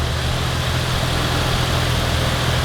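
A bagged Liberty Walk Infiniti G35/G37 idles steadily up close, a continuous low rumble with an even throb and no voices, starting after a long time sitting with a weak battery.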